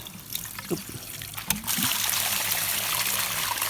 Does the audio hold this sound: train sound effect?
no